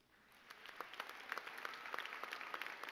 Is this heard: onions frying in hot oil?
no